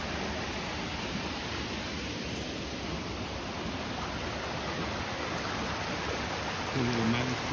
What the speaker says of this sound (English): A little mountain stream here, a little waterfall.